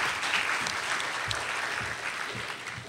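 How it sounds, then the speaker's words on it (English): Audience applause for a panel of speakers at a criminal justice forum, a steady wash of clapping throughout at moderate distance, with no voices over it. "another round of applause for all of our panelists"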